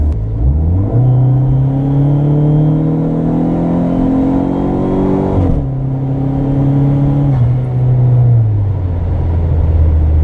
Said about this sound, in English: just so that you guys can hear the blow-off valve, or recirculation valve as I should say